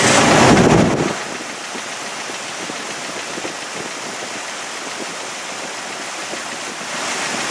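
A Jeep Grand Cherokee 4.0 engine cranks in a loud burst of about a second, then settles into a steady, even running rumble.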